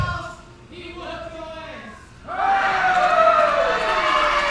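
A wrestling crowd at an indoor show cheers and chants, a rhythmic sung chant rising into louder, fuller roaring cheers in the second half, with a voice briefly heard.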